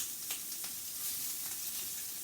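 Shrimp sear in a hot pan with a steady, close sizzle, with a few brief stirring or turning noises and no talking.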